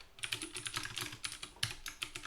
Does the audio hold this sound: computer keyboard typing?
yes